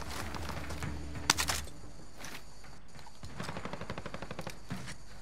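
Gunfire in Call of Duty: Modern Warfare erupts in a single sharp burst, then rapid rhythmic automatic shots rattle at moderate distance amid game ambience and mechanical clatter.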